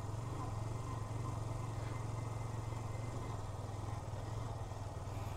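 A Yamaha FZS-V2 motorcycle rides along a country road past wheat fields, its engine giving a steady, low droning hum mixed with wind noise, unbroken and moderately quiet throughout.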